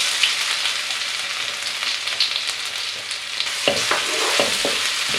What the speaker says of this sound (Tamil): இப்போ அடுத்ததாக நம்ம இடித்து வச்சுருக்க சின்ன வெங்காயம், பூண்டு, கருவாடு, மிளகாய் இது ஆட் பண்ணிக்கோங்க.